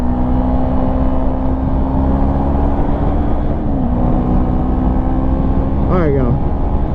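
A 2016 Yamaha R3 motorcycle cruises at highway speed in top gear, its steady engine drone loud and continuous under heavy wind rush, with a brief rising pitch sweep near the end as it pushes harder.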